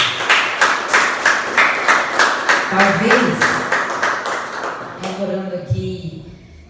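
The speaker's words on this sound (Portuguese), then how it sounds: "Aplauda o Senhor em nome de Jesus." A church congregation clapping in steady rhythmic unison at a Portuguese-language worship service, loud and close, with a few voices and some speech coming in over the final seconds as the clapping fades.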